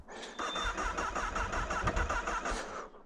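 A 1000cc sportbike engine turns over and fires on a cold start, then settles into a loud, steady rough idle close by, with no talk over it.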